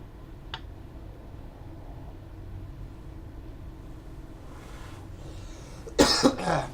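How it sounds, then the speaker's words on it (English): One brief cough early on, then a louder cluster of coughs near the end, close to the microphone over a quiet room background. "I was coughing because I couldn't breathe."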